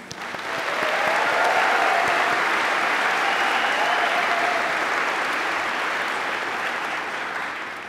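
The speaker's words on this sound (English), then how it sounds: "round of applause to all these amazing students" A ceremony audience gives sustained applause for nursing students at a pinning ceremony, a steady, full wash of clapping that swells quickly, holds evenly for several seconds and then tapers slightly toward the end.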